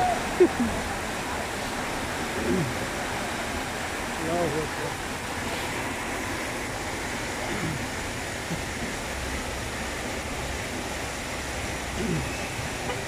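Floodwater from heavy rain rushing through the streets of Makkah, a constant broad roar of flowing water with faint traffic beneath.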